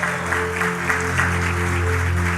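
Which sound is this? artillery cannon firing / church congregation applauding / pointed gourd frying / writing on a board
church congregation applauding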